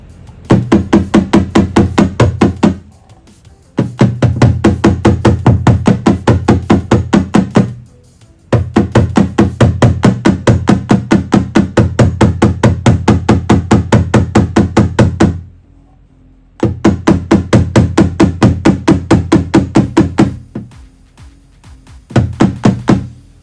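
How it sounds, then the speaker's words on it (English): Rapid, rhythmic metallic hammering as one hammer held against a car body dent is struck by another, in several long bursts separated by short pauses, loud and close. "So you can hold the hammer at the dent where you want to hit, and just hit that hammer with another hammer."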